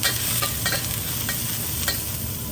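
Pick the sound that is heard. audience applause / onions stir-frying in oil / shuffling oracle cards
onions stir-frying in oil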